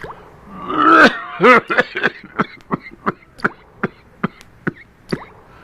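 A rough, heavy coughing fit up close: a few deep hacking coughs, then a string of shorter, regular coughs tapering off.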